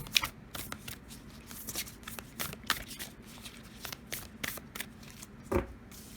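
Oracle cards being shuffled and handled before one is drawn for a monthly zodiac reading, a steady run of soft close riffling and flicking with a sharper slap near the end, no talking.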